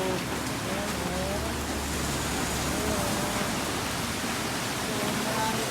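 Steady rain falls over garden plants, a dense, even wash of patter that stays constant throughout without pauses.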